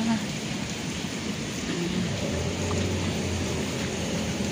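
Steady, heavy rain pours down in a constant dense hiss, with a low vehicle rumble passing beneath it.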